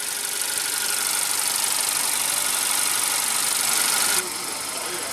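The engine of a 2015 Honda Accord runs at a steady, close hum with a broad hiss over it, dropping slightly in level near the end.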